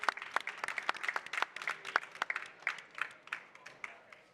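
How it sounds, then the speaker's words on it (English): A conference audience applauding at the end of a climate finance summit session, a dense patter of many hands clapping at moderate distance that thins out slightly toward the end. "So a round of a final applause"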